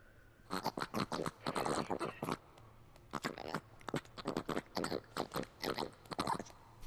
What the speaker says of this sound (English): It's like somebody's strangling a pig.